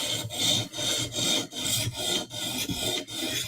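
Knife blade being sharpened on a stone while profiling the bevel, a close, steady rasping scrape repeated in even strokes about every three-quarters of a second, with no talking.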